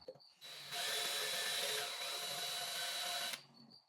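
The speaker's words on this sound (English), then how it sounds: "This is drilling really easy for us." A power drill bores a hole through a new transmission pan, a steady high whine lasting about three seconds with a brief spin-up at the start, close and fairly faint overall.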